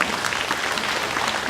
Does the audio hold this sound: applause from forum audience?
yes